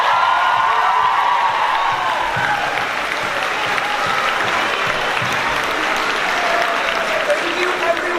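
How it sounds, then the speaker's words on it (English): A school opening assembly on the first day of the year fills with dense, steady audience applause that holds loud and even throughout, with cheering and scattered voices mixed into the crowd. "please join us in a big round of applause to welcome in the new year"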